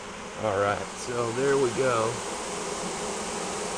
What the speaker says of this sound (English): And the bees are really lit up.